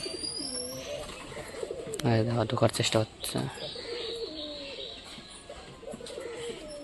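Pigeons coo nearby in low throaty bursts while a person talks over them, with chirping in the background.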